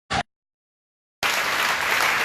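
A church congregation bursts into applause, a loud, steady clapping that starts abruptly after a short blip and a moment of silence and carries on to the end.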